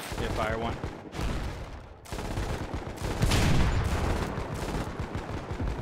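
Artillery gun firing in the war video game Foxhole, heavy booming shots and dense battle noise filling the scene, loud and near, with voices talking in between.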